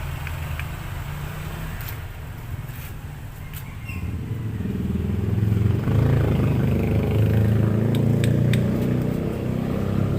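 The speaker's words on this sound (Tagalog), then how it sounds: "Sobrang ingay talaga yung kanyang connecting rod." Honda CB110 motorcycle engine with a worn, noisy connecting rod, running close by with a steady clattering rumble that grows louder partway through.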